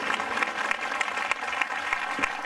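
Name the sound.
audience clapping for Jesus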